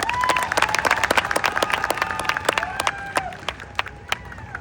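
Audience at a motivational stage event breaking into loud applause, many hands clapping in a dense, uneven burst that gradually thins toward the end, with a few faint cheers.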